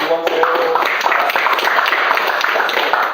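Loud, close applause fills the room as a family clan elder is introduced at a youth association's founding meeting, a dense continuous wash of clapping with chatter mixed in.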